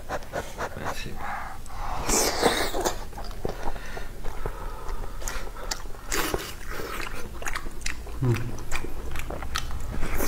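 Someone eats pork braised with glass noodles, with close, repeated wet chewing, biting and slurping sounds alongside soft breaths, loud and intimate throughout.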